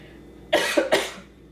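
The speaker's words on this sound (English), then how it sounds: "and I have this weird cough." A woman with a lost voice coughs twice in close succession, a short harsh wet cough followed by a second burst, fairly near and alone with no talk.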